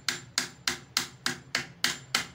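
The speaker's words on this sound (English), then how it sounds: "Mix it with a pipe to tap it inside. Make it with an hammer. Tap it inside." Hammer striking a pipe to tap a new oil seal into place, eight sharp metallic knocks in an even, steady rhythm, close and clear with no talking.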